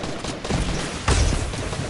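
Rapid gunfire in the Fortnite video game, a dense crackling burst that swells sharply about halfway through and stays loud and steady over constant game noise.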